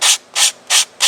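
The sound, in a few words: hand sander sanding wood on RC airliner model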